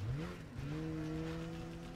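A combat cycle revs up in the video game Command & Conquer, a steady engine tone that climbs in pitch and then holds, loud and close with a continuous busy game background.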